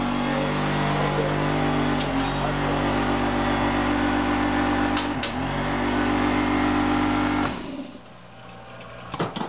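Engine of an RC jet model B1 bomber running at a steady high drone with a strong harmonic hum, then cutting out near the end, leaving faint knocks.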